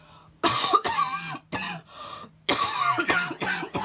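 Close-up coughing comes in a run of harsh bursts, several in quick succession with a brief pause midway.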